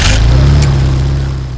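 Air-cooled engine of an amphibious car running close by, a loud steady low hum with a brief rise in pitch before settling.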